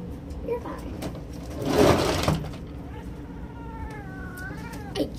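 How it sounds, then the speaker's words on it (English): A cat meows and yowls indoors, ending in drawn-out, wavering cries, heard over steady background noise and a muffled rustle. "I just found the cat."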